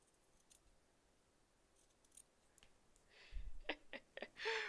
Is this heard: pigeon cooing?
no